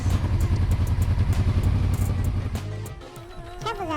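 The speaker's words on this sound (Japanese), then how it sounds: "レバーを戻すとアイドリングが不安定。" A Yamaha Vmax motorcycle engine idles roughly, running unevenly with a fluttering, uneven beat, close and steady, then dips and falters near the end.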